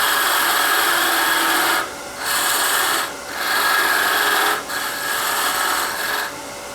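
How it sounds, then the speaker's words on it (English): Gouge taking a peeling cut on a spinning wood lathe workpiece, loud continuous hissing shear in four long passes separated by brief pauses, close and steady. "I'm going to do a peeling cut"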